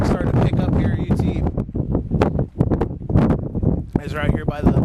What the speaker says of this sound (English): Very windy as the wind started to pick up